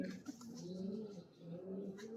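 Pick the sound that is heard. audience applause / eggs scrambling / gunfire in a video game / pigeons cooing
pigeons cooing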